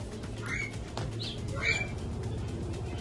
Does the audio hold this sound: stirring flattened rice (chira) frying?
no